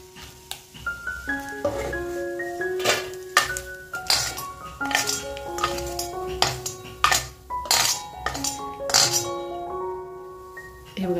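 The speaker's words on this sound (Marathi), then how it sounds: "आता मी मासे एका प्लेटमध्ये काढून घेते।" Fried dried fish is lifted from a pan onto a plate with a run of clinking metal-on-plate and pan contacts, bright ringing taps scattered irregularly over several seconds at close range.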